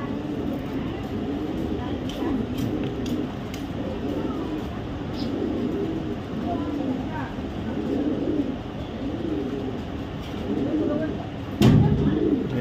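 Aluminium silver racing pigeons coo repeatedly in a loft, soft rolling calls at moderate distance over a steady background, with a louder thump near the end.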